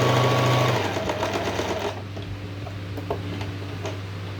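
Sewing machine stitching heavy blouse hangings, a close, steady mechanical hum with fast ticking stitches that quiets and slows to sparse clicks toward the end.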